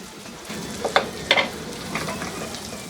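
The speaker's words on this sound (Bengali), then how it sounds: "আমি চুলায় দুই টেবিল চামচ তেল গরম করে এর মধ্যে এই পেঁয়াজগুলো দিয়ে প্রথমে একটু ভেজে নিব" Sliced onions, garlic and ginger fry in two tablespoons of hot oil, a steady close sizzle with a few sharper crackles and stirring scrapes rising over the bed of frying noise.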